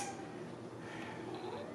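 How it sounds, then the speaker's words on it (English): A cat that wants to jump up meows quietly, a faint, short call set against soft indoor background noise. "the cat wants to jump up."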